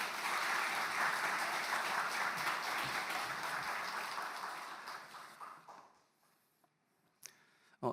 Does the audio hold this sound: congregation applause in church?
yes